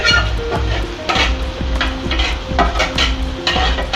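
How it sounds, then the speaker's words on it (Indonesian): Chili peppers being stir-fried in a pan, with a loud continuous sizzle broken by repeated clinks and scrapes of a utensil against the pan at a fairly regular pace. "Cabe ditumis sampai matang."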